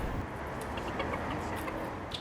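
Backyard chickens give soft, scattered clucks at close range over a steady outdoor background hum, with no talking.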